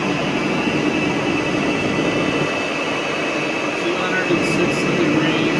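A Rotovac 360i carpet cleaning machine runs with strong suction, making a loud, steady roaring hiss that continues without a break, close by.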